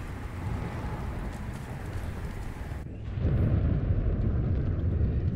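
Stormy weather with hail in the video game Subnautica Below Zero: a dense, steady roar of rain or hail that grows heavier and louder about halfway through.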